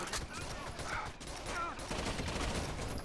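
Rapid gunfire from Rainbow Six Vegas 2 rattles on without a break, loud and dense, a continuous fusillade with a few brief tonal game effects layered over it.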